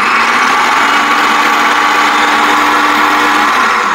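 Electric mixer beating a coconut flan mixture, a steady high whirring drone that runs loud and unbroken from start to finish with no talking.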